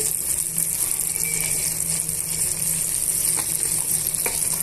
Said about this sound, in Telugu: ఇలా కరివేపాకును కూడా యాడ్ చేసుకొని ఒక హాఫ్ టేబుల్ స్పూన్ పసుపుని యాడ్ చేస్తున్నానండి